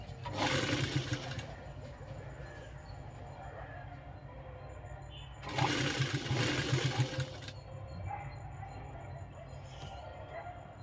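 Sewing machine stitching fabric pieces together for a seam, running in two loud bursts of about two seconds each with a quieter room background between them.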